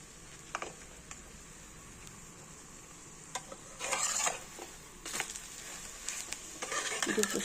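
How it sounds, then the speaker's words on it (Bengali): An egg paratha fries on a hot tawa with a quiet, steady sizzle, broken by a few sharp scraping and flipping bursts from the pan. "দুপাশে ভালো করে ভাজা হয়ে গেছে,"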